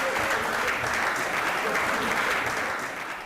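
A studio audience at a televised courtroom-style talk show claps steadily, a dense, loud, sustained wash of applause that tapers slightly at the end, with no distinct voices.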